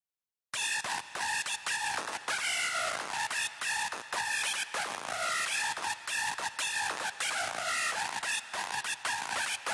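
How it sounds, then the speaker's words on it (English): A hardstyle FM screech synth built with Sytrus in FL Studio plays a loud, harsh, buzzing lead with rapid stuttering rhythmic chops and sweeping modulated tone, heard alone after a brief silence. "that's how I made this screech sound using Sytrus"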